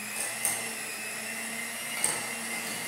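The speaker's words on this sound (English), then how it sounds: "Just get a hand mixer." An electric hand mixer whirs on slow speed while blending icing for a Valentine's dessert, a steady motor drone with a high whine and a couple of faint clicks, close and continuous.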